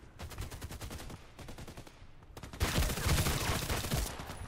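Rapid gunfire from the online shooter game Contract Wars rattles in fast automatic bursts, a lighter run of shots first, then a louder, denser volley after a brief pause.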